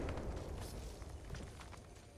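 Grenade explosion in a video game, a dense low rumbling blast with crackling debris that fades slowly over about two seconds, fairly quiet and heard alone.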